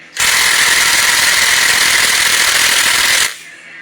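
A battery-powered impact tool on a Pontiac 301 engine runs for about three seconds in one loud, steady, rattling burst while trying to loosen tight bolts, then stops abruptly.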